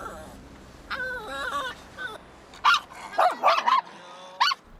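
Two dogs riding in a car at a gas station bark at the attendant, with whiny yelps building into loud, sharp, close barks in quick bursts.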